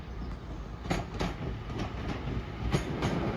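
A Class 323 electric train from Manchester Piccadilly rolls in to terminate at Crewe station. Steady rumble with soft repeated wheel clicks, fairly close.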